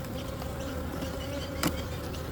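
Honey bees buzz in a steady, close drone during a late-December beehive inspection, with a brief sharp knock near the end.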